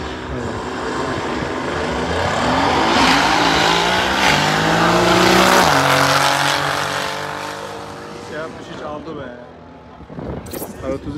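A BMW E30 fitted with an M5 engine launches at a drag race held at a car meet, its loud engine howling and rising in pitch through gear changes before fading, with voices around.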